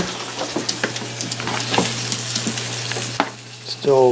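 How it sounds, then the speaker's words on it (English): Vegetables fry in a pan with a steady, close sizzle while a utensil scrapes and stirs them in irregular strokes; a brief electronic tone sounds at the very end. "The vegetables are starting to look good. I'm going to give them another stir."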